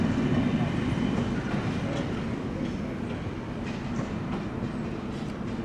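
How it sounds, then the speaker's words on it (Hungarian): A UDJ railway crane vehicle rolls past at Rákosrendező station in Budapest, a steady low rumble of rail wheels with faint clatter, heard at moderate distance and fairly quiet. "ott megy egy jó kis darús jármű, UDJ"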